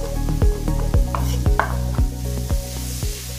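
Garlic and chili sizzle in a pan for a pasta sauce, a steady crackling fry under regular scraping stirs, with tonal background music playing throughout.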